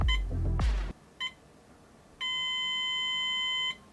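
A timed phone lock container gives a short tone burst, then a brief blip and a sustained electronic beep lasting over a second, all close and clear with no talking.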